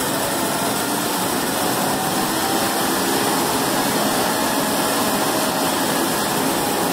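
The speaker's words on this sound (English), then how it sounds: "It's just one of the Strombergs running on the test stand." An engine fitted with Stromberg carburetors runs on a test stand, giving a loud, steady, broadband roar that holds constant throughout with no talking.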